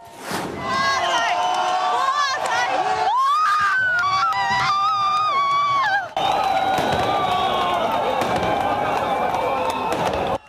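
A large outdoor crowd in central Chernihiv roars, screams and cheers as a Lenin monument is pulled down, with bursts of fireworks crackling and popping amid the sustained loud clamour.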